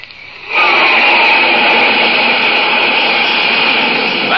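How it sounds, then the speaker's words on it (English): Flight of jet planes tearing across the sky, a loud sustained roar that bursts in after a brief quiet moment and holds steady, close and powerful, with no voices over it. "That's a flight of jet planes flashing across the sky, flying faster than the speed of sound itself."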